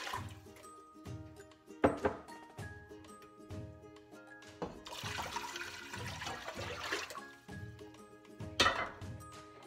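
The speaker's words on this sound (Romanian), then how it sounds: "adăugăm apa" Water splashes and gurgles as it is poured into a saucepan on the stove while cornmeal flatbread is being made. The pouring comes in several uneven bursts over soft background music.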